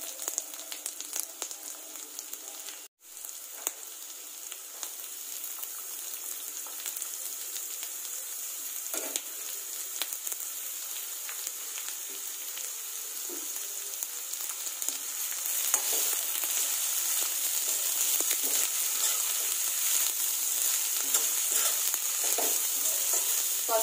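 Onions fry in a drumstick and egg curry with a continuous, even sizzle that grows louder and denser partway through, with no voices.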